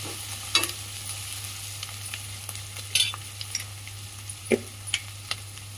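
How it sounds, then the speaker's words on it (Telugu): A spoonful of ginger garlic paste fries in hot oil for a spring onion egg fry, with a steady close sizzle broken by sharp scraping clinks as it is stirred. "కొంచెం అల్లం వెల్లుల్లి పేస్ట్ వేసుకున్నా, ఒక స్పూను. మంచిగా ఫ్రై అయ్యేటట్టు కలుపుకున్నాను."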